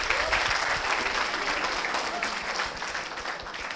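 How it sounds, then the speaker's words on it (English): Workshop audience gives a winning team a round of applause, a steady wash of clapping hands from a roomful of participants, with faint voices mixed in. "can we give them a big round of applause?"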